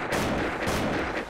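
Rapid, loud gunfire from an AKEI Xmas rifle in a shooting video game, a dense burst of closely spaced shots filling the short moment with no talk.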